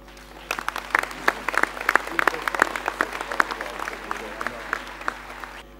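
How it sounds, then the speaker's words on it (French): An audience at a New Year's greetings speech in Croissillons breaks into applause, a crisp rattle of individual claps that thickens and then thins toward the end. "Et je les applaudis aussi."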